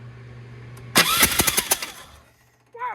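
A Polaris 6x6 engine cranks and catches, giving a burst of sputtering, uneven combustion pops before settling into a quieter running idle, heard up close and alone with no talk.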